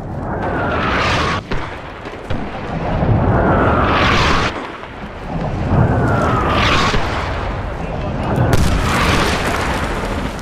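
Several heavy artillery explosions in the video game Medal of Honor Warfighter boom one after another, each a loud rumbling blast with a whistling rush, amid continuous battle noise.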